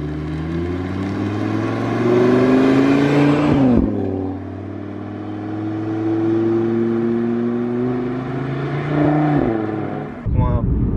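An Audi RS3 with 400 hp and exhaust flaps open revs and accelerates loudly with a rising engine drone. The engine drops at a gear change, then pulls again steadily before easing off near the end.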